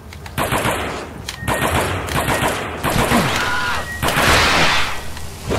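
Pistol shots in the Alien vs. Predator video game, a rapid string of sharp cracks fired in quick bursts with short gaps, with a brief grunt from a voice.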